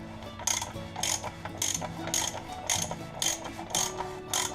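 A ratchet wrench tightens the oil filter cap on a Jeep Grand Cherokee during an oil change, producing a steady series of about eight rhythmic clicking strokes, close and moderately loud, with no speech.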